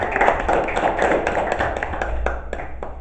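Students applauding in a classroom: a small group clapping, a steady patter that thins out into a few scattered claps toward the end.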